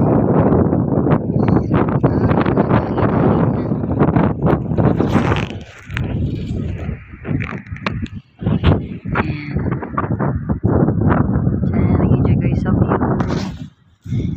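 Strong wind on a mountain in Taif, Saudi Arabia, buffets the microphone in loud, gusty rumbling bursts that surge and drop throughout, with a person talking intermittently.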